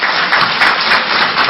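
Steady dense clapping from a group, loud and close, filling the short moment without talk.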